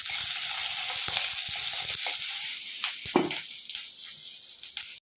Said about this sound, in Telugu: 2 నిమిషాలు వేయించుకుందాం మంచిగా వీటిని.